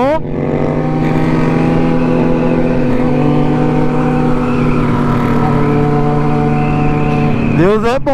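A Yamaha MT-07 motorcycle engine drones steadily at close range for several seconds, then a sharp rising pass sweeps by near the end.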